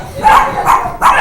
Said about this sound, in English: Oh, looks like the dogs are here.